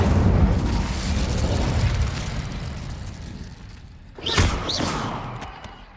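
The Incendio fire spell in Hogwarts Legacy goes off with a loud rumbling burst of flame that fades, then a second sharp whooshing blast and thud near the end.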